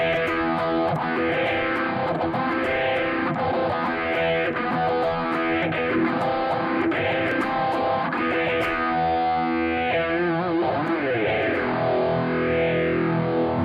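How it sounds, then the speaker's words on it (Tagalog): An electric guitar plays through a Tank-G overdrive distortion effect, giving loud, sustained, gritty strummed chords with a swirling, sweeping modulation throughout and a change in texture partway through, without any voices. "Okay, lagyan natin ng overdrive."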